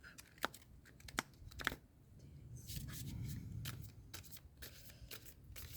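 Oracle cards being cut and shuffled by hand: a few sharp papery snaps and riffles, then a longer soft shuffling rustle, close and fairly quiet with no talk.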